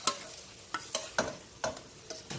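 Pork stew mix going into a hot pot, a gentle continuous sizzle broken by several sharp stirring scrapes spaced irregularly, close by and fairly soft.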